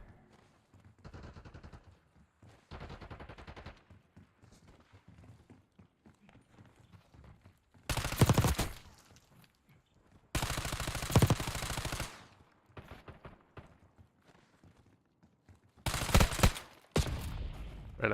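Rapid bursts of automatic gunfire in the video game Modern Warfare 3 come in three loud volleys, separated by quieter stretches of softer shots and game noise.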